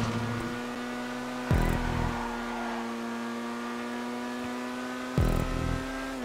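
A GTA 5 car engine drones steadily at a sustained pitch while drifting, with two brief louder surges of revving or impact breaking in, and no talk over it.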